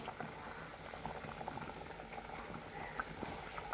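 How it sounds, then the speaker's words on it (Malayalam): Fish curry bubbling at a strong boil in an uncovered pot over a fire, a continuous soft patter of bursting bubbles, close but quiet, with no one talking. "നന്നായിട്ട് തിളച്ചു"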